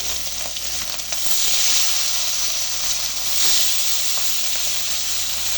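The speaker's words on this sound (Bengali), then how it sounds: "তারপরে এটা আমি মাছগুলো দিয়ে দিব" Small gochi fish sizzle loudly in a pan with cumin, a continuous close hiss and crackle that swells twice as the oil spits, with no talking.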